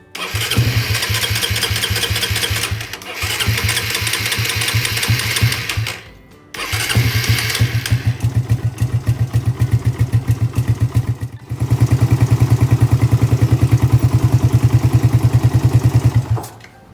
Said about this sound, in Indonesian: kita lihat bagaimana reaksi mesinnya ya waktu dihidupkan